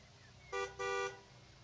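A car horn gives two short honks, the second slightly longer, from a car arriving outside at moderate distance over a quiet background.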